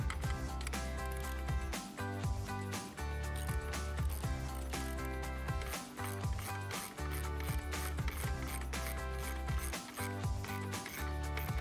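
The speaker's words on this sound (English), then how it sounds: "we will be using a 13 millimeter socket on our ratchet to remove the nut" A ratchet with a 13 mm socket loosens the positive battery terminal nut on a 2019-2021 Silverado 1500, making rapid repeated clicking strokes in quick bursts over a dense, loud mechanical background.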